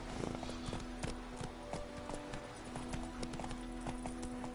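Roach, a horse in The Witcher 3, gallops with rapid rhythmic hoofbeats that clip-clop steadily and close, over a low sustained tone, with no voices.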